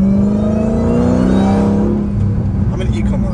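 A Dodge Hellcat Redeye fitted with a new cold air intake revs up with a rising, whining engine note that climbs and then drops away as the throttle closes, loud and close, with a voice faintly underneath.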